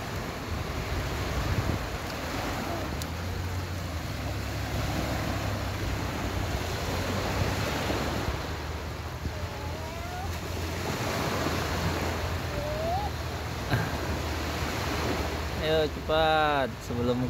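Sea waves wash continuously onto a beach at Tirtamaya, Indramayu, in a steady surf roar mixed with wind noise on the microphone, while people talk and call out nearby as they play in the sand.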